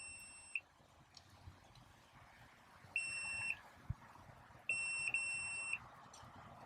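A multimeter set to continuity beeps while probing the wiring of a homemade XLR-to-iPhone adapter with bad soldering: three steady electronic tones, one brief and two longer, over quiet room hiss.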